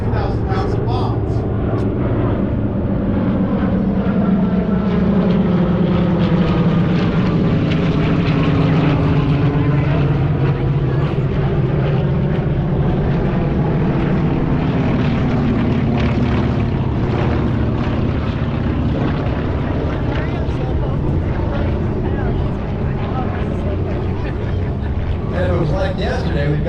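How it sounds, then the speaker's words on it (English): A classic P-51D propeller fighter passes over an airshow crowd, its engine droning loud and continuous throughout while a commentator talks over it. "Coming over the top of the crowd now, the B-51D"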